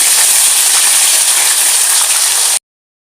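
Okra pieces deep frying in sesame oil in a deep wok, a loud, steady broadband sizzle and hiss held close for about two and a half seconds before cutting off to silence.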